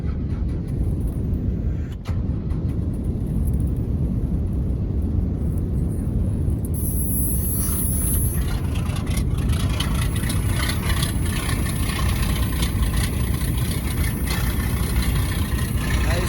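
A Cummins diesel engine idles steadily and loudly after a cold start in icy, snowy weather, having sat unused for months. The rumble runs unbroken except for a brief dip near the start.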